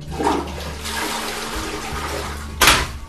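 A toilet flushes nearby, a steady loud rush and gurgle of water running throughout with a brief sharper surge near the end, and no talking.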